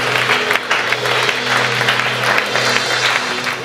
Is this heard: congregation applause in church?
yes